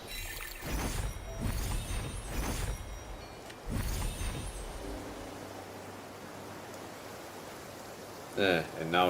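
Rainfall in the open-world game Genshin Impact, a steady broadband hiss of falling rain that runs throughout, with a few louder bursts of other game sounds and some speech early on.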